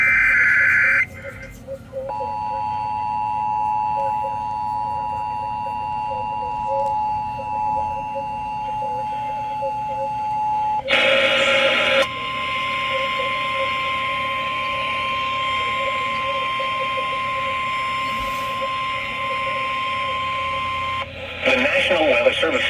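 Emergency Alert System broadcast tones issued during Hurricane Helene: steady, loud electronic attention tones play for several seconds at a time, with bursty data-style noise between them and an announcer voice heard alongside.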